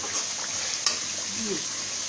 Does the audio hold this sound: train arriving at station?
no